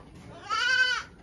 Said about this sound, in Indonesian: kambing itu